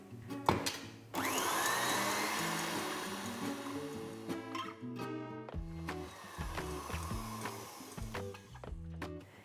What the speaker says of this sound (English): We're going to continue whipping till it just holds on the whisk.